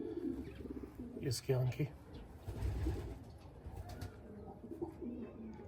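Pigeons in someone's loft on Saryab Road coo in low, throaty bursts close by, while someone speaks briefly over them.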